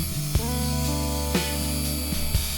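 A power drill whirs steadily at close range, with short bursts and changes in pitch as it bores mounting holes in a scrap wood towel rack.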